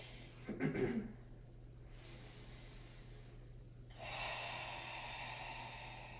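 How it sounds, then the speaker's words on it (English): Deep breaths taken while holding a down dog yoga pose: a short, sharp nasal intake, a pause, then a long, steady breathy exhale, close and soft, with no talking. "I'm just gonna take like 3 deep breaths here"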